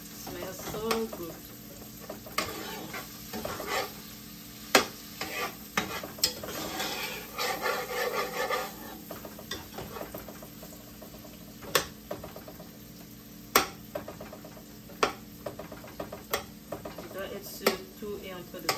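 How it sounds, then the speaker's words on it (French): Shrimp simmer in a sauce for an African dish while a utensil stirs the pan, producing a steady sizzle under rhythmic scrapes and clinks against the cookware that keep on throughout. "La sauce est en train de bien se mélanger là."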